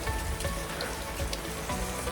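Steady rain falls outdoors on a hillside trail at Malangad, a dense, continuous patter on surfaces with scattered louder drops throughout, with no voices.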